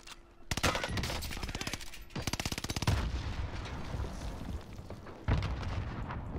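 Gunfire in a shooter video game: rapid automatic bursts of loud, close shots separated by short pauses, followed by a sustained heavy barrage and a final sharp burst.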